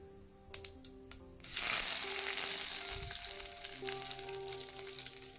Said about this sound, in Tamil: சோம்பு நல்லா பொரியணும்